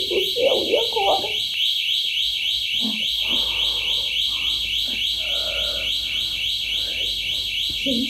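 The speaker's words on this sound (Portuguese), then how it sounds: "O alarme ligou, meu Deus do céu, e agora?" A household alarm beeps in a steady, repeating high electronic pattern throughout, while someone talks anxiously and other voices speak beneath it.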